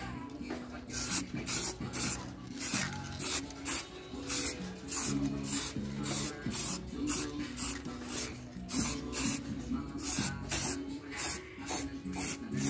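Cleaner sprayed onto the brake caliper of a 2017 Yamaha Mio Soul scooter, heard as a steady run of rapid, regular hissing spray bursts close by, continuing throughout without talk.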